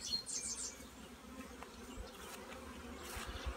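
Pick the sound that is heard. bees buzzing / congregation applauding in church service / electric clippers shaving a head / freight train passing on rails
bees buzzing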